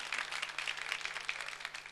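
A studio audience on a Turkish TV talk show applauds with steady, moderately distant clapping that holds evenly for a couple of seconds.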